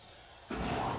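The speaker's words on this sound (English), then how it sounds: "Is that how you spray paint like this?" A spray paint can hisses in one steady burst that starts abruptly partway through and keeps going, loud and close.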